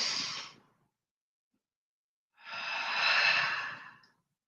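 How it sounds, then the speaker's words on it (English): A deep breath taken during a guided EFT meditation for abundance, two long breathy airflows, a short exhale then a fuller, louder breath after a pause, close and alone with no talking. "And taking a nice deep breath."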